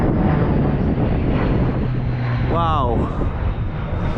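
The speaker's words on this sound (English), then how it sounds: "Oh, there's a plane." A low-flying airplane roars over the Snowdonia mountains, a loud broad rumble mixed with wind buffeting on the microphone, while a walker on the slate trail speaks briefly.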